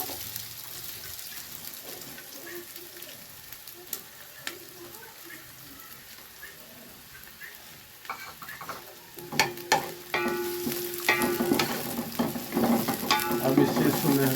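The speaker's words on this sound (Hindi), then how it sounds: "अब इसे सुनहरे होने तक भून लेंगे।" Chopped onion fries in hot ghee over high flame for a vegetable pulao, a steady soft sizzle that grows louder and busier near the end, with occasional stirring clinks and no talk.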